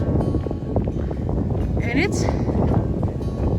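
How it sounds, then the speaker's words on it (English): Gusty wind buffets the microphone in a steady low roar on a mountain trail in Vermont's Green Mountains, with people talking briefly over it. "It's not that cold, but it's very windy."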